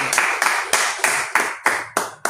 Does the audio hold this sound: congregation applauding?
yes